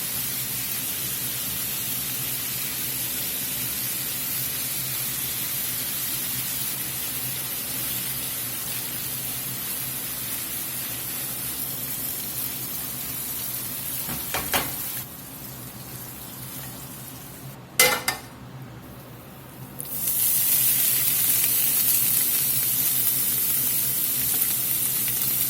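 Fatty 70/30 ground beef with onion sizzles and fries in a pan, a steady hissing crackle throughout, broken near the middle by a few scraping stirs and a brief drop before the sizzle returns louder.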